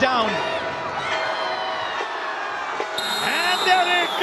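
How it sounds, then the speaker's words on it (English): A packed arena crowd at a women's kho kho World Cup match between India and Bangladesh chants a countdown in unison, loud and echoing, with whoops and cheers rising over the rhythmic shouting. "The entire crowd here is counting down."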